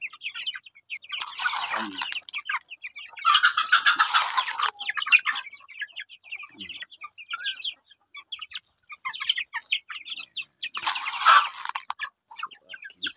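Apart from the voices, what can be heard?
native chickens clucking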